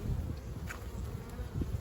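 Honeybees buzzing steadily inside an opened brood box of a Pennsylvania hive in late winter, a close, continuous low drone with no talking.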